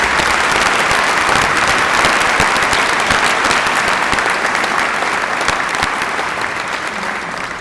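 A university event audience gives a long round of applause to welcome guests. The dense, loud clapping continues without a break and fades slightly toward the end.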